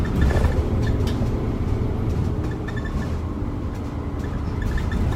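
An Optare Solo bus heard from inside while riding from Bromsgrove to Worcester gives a steady, close, low engine drone with road rumble and light rattles throughout.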